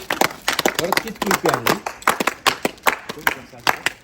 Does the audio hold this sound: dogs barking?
no